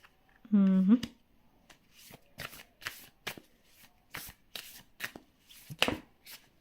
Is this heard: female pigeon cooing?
no